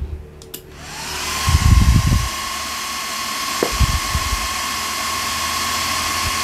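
A cooling fan on an ICOM IC-7000 radio in a mobile station setup whirs at a steady, fairly loud pitch with a thin whine, alongside a few low thumps and clicks from nearby handling.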